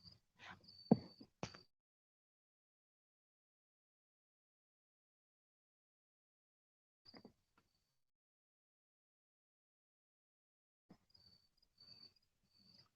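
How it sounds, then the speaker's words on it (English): Crickets at night heard from inside a parked police cruiser: a few brief, faint bursts of high chirping near the start, a long silence, then scattered quiet chirps near the end, with no talk. "Can you hear the crickets?"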